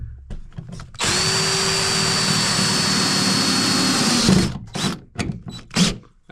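A power drill with a star bit whines loudly for about three seconds while driving a screw, then stops, followed by clunks and handling noises nearby.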